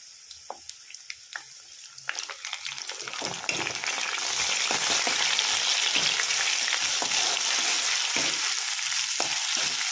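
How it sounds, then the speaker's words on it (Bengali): Ginger-tomato paste hits hot oil with potatoes and cauliflower for a Bengali aloo phoolkopir dalna, starting with scattered spatters and stirring clatters, then swelling after a few seconds into a loud, steady sizzle that fills the rest. "আদা টমেটো এটার পেস্ট আমি একটু দিয়ে দিচ্ছি"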